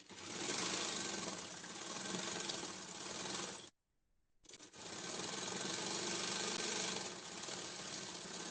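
A sewing machine stitches kurti fabric in two steady, loud whirring runs, broken by a short pause while the needle is stopped and the cloth is turned, close to the microphone with no talk.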